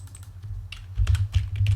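Rapid typing on a faulty computer keyboard, a dense run of close, loud clicking keystrokes that grows busier and heavier in the second half, with no voice present.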